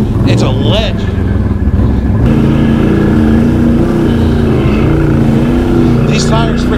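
Can-Am Outlander 650 and 850 XMR ATVs running at an ATV park, a continuous loud engine drone with shifting pitch, close to the microphone, with people talking over it.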